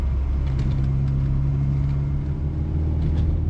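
A restored classic Mini, freshly finished after a two-year rebuild, drives near the foot of Ditchling Beacon, its engine humming in a steady, close, tonal drone over road rumble, with no voices.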